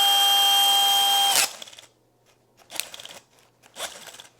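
A DeWALT DCD996 20V Max XR brushless 3-speed 1/2-inch hammer drill runs in gear 1 at a low clutch setting: a loud, steady motor whine for over a second that cuts off abruptly, followed by a few faint clicks and handling knocks.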